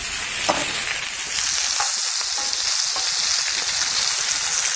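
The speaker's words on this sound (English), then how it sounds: "this is probably going to cook, being tossed around in this pan for about at least 10 to 15 minutes" Peaches sizzle in melted butter in a pan for a grilled peach cobbler, a steady, close, hissing fry with faint stirring clicks, continuous and loud with no talk.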